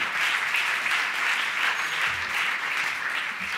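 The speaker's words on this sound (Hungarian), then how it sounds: "fogadjuk nagy tapsal Galambos Andrist." Steady applause from an audience welcoming a speaker at a Sunday evening church gathering, a dense, even clapping of moderate loudness sustained throughout.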